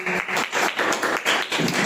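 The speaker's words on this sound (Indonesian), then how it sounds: "Tepuk tangan dong buat Aki." A class applauds a student, fairly quiet clapping in a quick, even rhythm for about two seconds with no talking over it.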